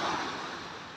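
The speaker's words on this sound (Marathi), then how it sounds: "आणि हे समुद्र बघा. दोन्ही साईडला समुद्र आहे." Sea waves at Girgaon Chowpatty beach in Mumbai make a steady, fairly loud broadband wash with a windy hiss and no distinct individual breakers.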